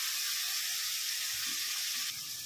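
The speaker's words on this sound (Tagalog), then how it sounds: "After na mag-brown na yung sibuyas at saka bawang, saka ko hinulog yung kamatis." Onion and garlic browned in a pan with tomato added, sautéing in an outdoor kitchen; a soft, steady sizzle hisses throughout, fairly quiet and alone.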